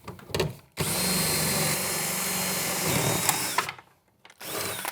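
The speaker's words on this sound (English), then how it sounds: "especially if you're drilling into a cocktail, the monitor is right behind here" Power drill boring out the lock on an arcade cocktail cabinet, starting after a short rattle and running as a loud, steady whine for about three seconds, stopping, then resuming briefly.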